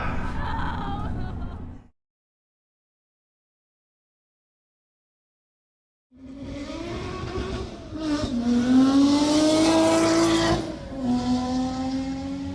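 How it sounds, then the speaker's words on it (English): A Ferrari engine revs hard in a film scene, rising and falling in pitch over several seconds after a silent gap, loud and close, with some voice-like sounds mixed in near the start. "Sitting in a real car, a real Ferrari."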